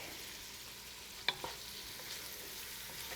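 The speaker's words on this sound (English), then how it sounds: "now we're gonna add the onions just to soften a bit and get that a head start" Onions going into a hot pan to soften, a faint steady sizzle with a sharp clack of a utensil against the pan, quiet and close.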